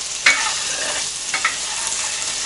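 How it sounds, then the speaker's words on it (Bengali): Potatoes and eggs fry lightly in a pan for kacchi biryani, giving a steady sizzle with a few sharper scrapes and stirs. "আমি এটাকে হালকা ভাজি করে নিব"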